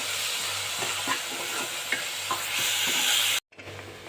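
Garam masala, coriander powder and chili powder frying briefly for restaurant-style dal khichdi, a constant sizzle broken by light stirring taps, cutting to near silence before resuming faintly.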